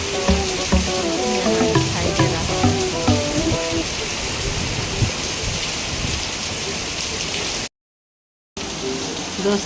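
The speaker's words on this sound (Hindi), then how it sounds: "बहुत ज़ोरों की हो रही है बारिश, बहुत ज़ोरों की।" Heavy rain falls steadily, a dense hiss under someone speaking in Hindi, with a brief dropout near the end.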